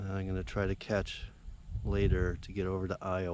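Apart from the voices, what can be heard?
No everyday noise stands out behind the speech.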